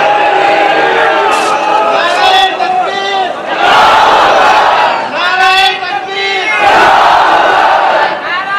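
Large gathering at a religious sermon raising a loud chanted group response, many voices shouting in unison in repeated swells, near and dense, with harmonic crowd roars rising and falling over the whole stretch.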